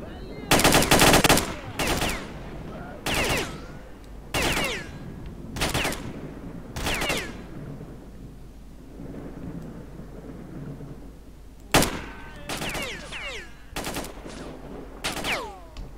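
Gunfire in the S.T.A.L.K.E.R.: Shadow of Chernobyl video game: loud, sharp rapid bursts recur every second or so against a rumbling ambient bed, pause for several seconds, then return as a denser volley.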